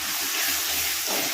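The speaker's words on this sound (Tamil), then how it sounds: "இப்போ நம்ம புளியை கரைச்சி ஊற்றிக்கலாம்." Tamarind water pours into a pot of bat fish kulambu made with small onions, tomato and turmeric, giving a steady, close, full liquid rush and splash throughout.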